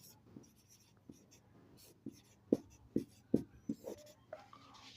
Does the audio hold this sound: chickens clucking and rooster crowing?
no